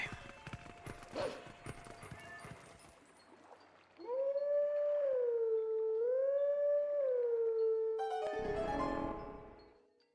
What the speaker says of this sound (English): Yeah, howling for our old friend Catherine again to come pick us up